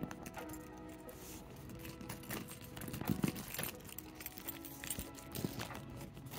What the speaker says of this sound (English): Then we have my house keys, my Victoria's Secret strap that I have attached to them.